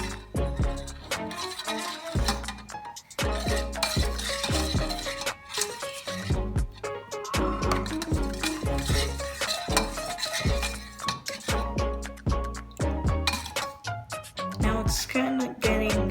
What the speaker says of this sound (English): then we add our gelatin mix into the jello mixture. And now we stir even more.